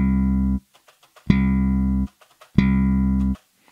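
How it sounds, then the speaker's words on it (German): A bass guitar string slapped with the thumb, three separate notes, each a sharp percussive attack that rings into a full sustained tone and then cuts off, spaced evenly with short silences between. "Jetzt haben wir einen geslappten Ton mit dem Daumen."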